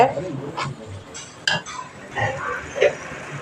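Tomato paste being sautéed in oil in a pan for an egg curry, heard as soft scraping and stirring with a few brief clinks of a utensil against the pan, faint and close with no voices.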